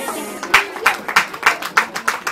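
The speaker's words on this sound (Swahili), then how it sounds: "Tupigie makofi." Audience applause at a school graduation ceremony, a steady run of sharp, close handclaps in an even rhythm, loud and clear with no talking over it.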